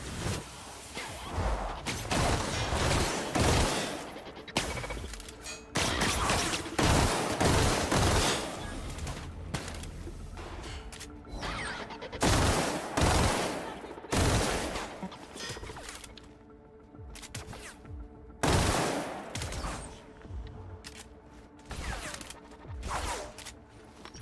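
Sniper rifle gunfire in the sci-fi game The Outer Worlds rings out repeatedly over about twenty seconds, loud cracking shots at irregular intervals with echoing tails and bursts of other game effects between them.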